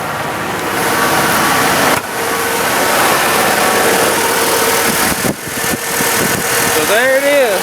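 A Ford engine idles steadily after a starter rebuild, a continuous mid-range rumble that runs throughout at close range and carries faint background sounds near the end.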